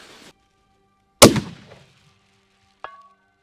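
A single sharp gunshot from a Christensen Arms MPR rifle cracks outdoors and decays quickly, followed by a faint metallic click.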